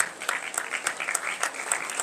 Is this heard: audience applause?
yes